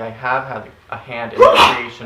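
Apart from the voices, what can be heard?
sneeze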